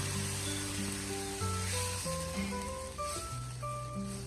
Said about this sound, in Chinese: 接着加入小半碗的温水